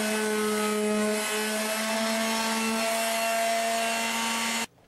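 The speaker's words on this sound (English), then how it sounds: "Lightly sand the edges as well." A power sander whines steadily as it smooths wooden edges before varnishing, a close, constant buzzing hum that cuts off abruptly at the end.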